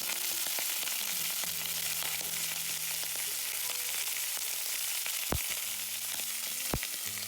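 Shrimp sizzle in a hot pan for Spanish brothy rice, a steady close frying hiss that runs throughout, broken by a couple of sharp utensil knocks near the end, with no talking.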